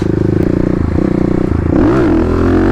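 A Kawasaki KLX250 dirt bike engine thuds rapidly at close range, then the rider opens the throttle and the revs climb and fall in one short, loud burst.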